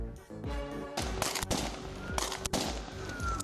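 Gunfire from a deadly police shooting in New Mexico, captured on body cam footage: rapid, loud bursts of repeated shots crowd together in quick succession for several seconds, harsh and close.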